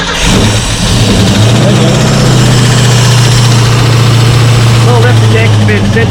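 Car engine fitted with a Holley Sniper 2 fuel injection system cranking, firing and settling into a loud, steady rumbling idle close by, with a voice speaking briefly near the end.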